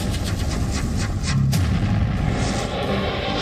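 Tank cannons, artillery guns and powerful rocket launchers fire at a military exercise, a dense continuous roar of blasts with one sharp louder boom about midway, no voices.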